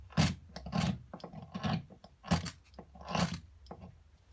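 Flint and steel are scraped together to drop sparks onto a candle wick, making a series of close, rough rasping strokes in an irregular rhythm, each a brief gritty scrape with no talking.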